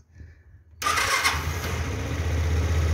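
A Suzuki Burgman scooter with a fault that makes it stall at high revs cranks and fires up after a replaced rectifier, then settles into a loud, steady idle close by with no talk.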